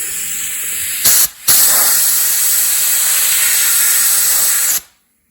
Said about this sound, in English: Something else I always do, I have my mini blaster.